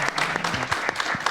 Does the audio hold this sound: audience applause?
yes